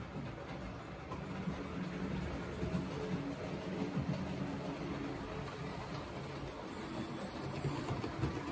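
A Hornby model locomotive runs back and forth on its track with a soft, steady mechanical hum and rumble. The sound is quiet and continuous, with only slight swells in level and no talk.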